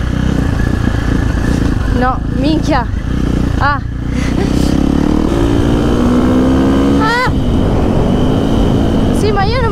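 A KTM SMR 450 motorcycle engine roars loud and steady throughout the ride, its pitch rising and falling with the throttle, while a rider shouts a few short words over it.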